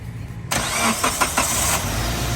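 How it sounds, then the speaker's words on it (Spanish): A car engine cranks and fires up, shown as a loud burst that stutters briefly then settles into a steady run, near and with no talk. It is turned over during a battery voltage-drop test. "procedemos a arrancar el vehículo para observar cómo es la caída de tensión al momento de arrancar"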